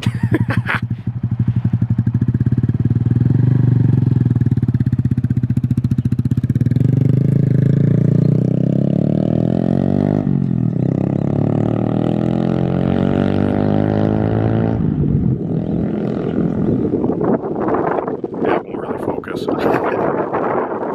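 A loud 2020 Honda Grom motorcycle with a cheap aftermarket exhaust rides close by around the block, its throaty engine pitch climbing and dropping through the gears, with wind buffeting throughout.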